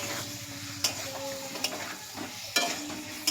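Potato and Shankar fish curry being stir-fried in a pan, a steady near sizzle broken by a few sharp spatula knocks against the pan at irregular intervals, with no talk.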